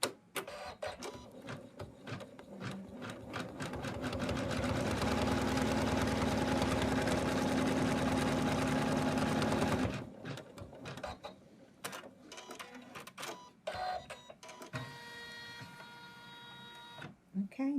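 Embroidery machine stitching a placement line for an in-the-hoop snowman stocking, a steady mid-level mechanical whir and rattle running for several seconds before stopping, followed by faint handling clicks.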